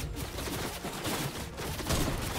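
Gunfire in the Fortnite battle royale game, a dense burst of overlapping shots and rapid cracks from several directions, loud and continuous for a couple of seconds.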